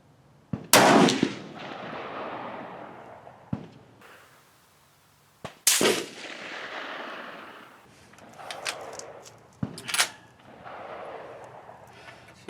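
Rifle shots from Gruning Precision and Steyr 300M CISM rifles, four sharp loud cracks spaced a few seconds apart, each followed by a decaying rumble in open air.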